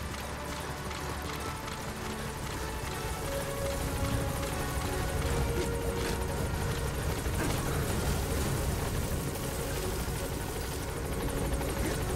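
A support helicopter arriving at a landing zone in the Metal Gear Solid video game, a loud continuous rotor thump and turbine whine that holds steady close by without voices.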